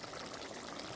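Cooked pangas fish curry is poured into a serving dish as a brief, soft, continuous stream of liquid, faint and heard alone.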